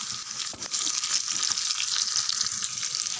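Spices, vadagam and turkey berries sizzle in hot oil in a pan for vatha kuzhambu, a close, bright crackling hiss with a few brief stirring scrapes.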